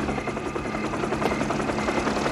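Steady, loud helicopter rotor thumping with a whining engine, close by and continuous throughout.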